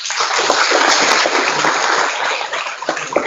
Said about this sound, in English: give a big round of applause to yourself again.